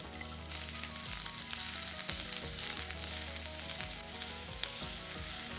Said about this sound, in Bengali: পেঁয়াজটাও একটু ভাজা ভাজা হয়ে গেছে